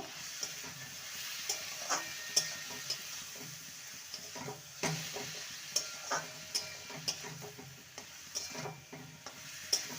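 Poppy seed paste with turmeric and salt sautés in a pan, giving a soft steady sizzle broken by scattered clicks and taps of a spatula against the pan, fairly quiet with no talking.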